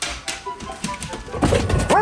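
A dog barks several times close by over a noisy indoor background, the barks growing louder and more frequent toward the end.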